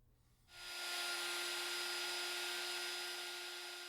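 A 1/2 inch spiral carbide router bit cuts along the edge of a circular wooden tabletop. The router starts up quickly and then holds a loud, steady, continuous whine with no talk.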